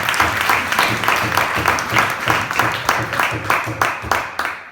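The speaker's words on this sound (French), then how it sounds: "Applaudissons pour Jésus." Church congregation applauding, dense rhythmic clapping from many hands, fairly close and sustained, with voices mixed in.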